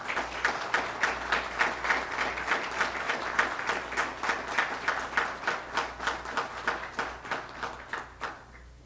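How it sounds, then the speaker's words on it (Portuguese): Audience applause in memory of a professor at a legislative session, synchronized rhythmic clapping in steady even beats, loud at first and tapering off near the end. "Recebam de todos nós muitos aplausos"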